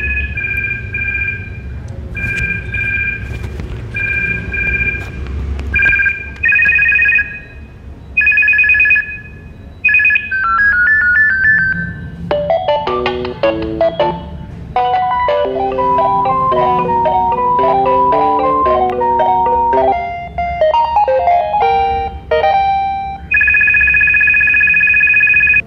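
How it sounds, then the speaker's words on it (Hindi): A Motorola T101 cordless landline handset cycling through its built-in ringtones: loud, electronic beeping rings and trilling melodies in turn, with short pauses and button beeps between them. "आप इसकी रिंगटोन चेंज कर सकते हैं, 10 टाइप की रिंगटोन्स दे रखी हैं इसके अंदर"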